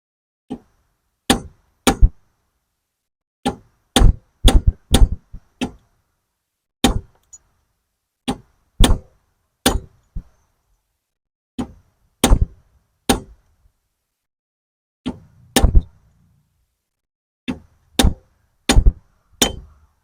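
A screwdriver is tapped to drive out a rear wheel bearing on a Honda CR-V. Sharp metallic taps ring out alone, near and fairly loud, in uneven clusters of two to four blows.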